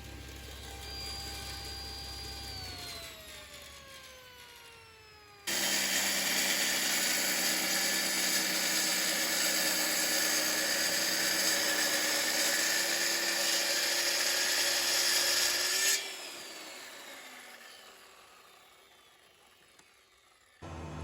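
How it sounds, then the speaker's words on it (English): A track saw cuts a long taper along a wooden board, its motor spinning up then holding a loud, steady whine through the cut for about ten seconds before winding down, with quieter motor hum before and after. "before cutting the taper with a track saw to get the two sides"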